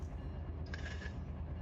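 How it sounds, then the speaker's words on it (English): Empty BNSF coal train rolling past in the RUN8 rail simulator, a steady low rumble of wagons with a brief higher metallic squeal midway, continuous and fairly close. "Look at there, a BNSF train."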